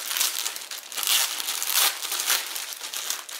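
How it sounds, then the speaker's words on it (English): Plastic wrapping on a cloth item from a book subscription box is opened, giving close, steady crinkling and crumpling with a few louder bursts and no talk. "Let's open this plastic here."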